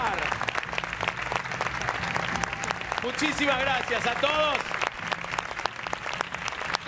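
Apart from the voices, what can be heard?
audience applause for the family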